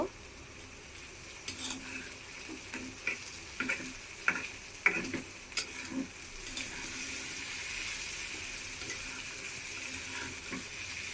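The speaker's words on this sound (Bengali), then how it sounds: "খুব ভালো করে একটু নাড়া দিয়ে দিব।" Sliced bitter gourd frying in a pan gives a soft, continuous sizzle while a spatula stirs it in a run of irregular scrapes and taps, the stirring clustering near the middle and easing toward the end.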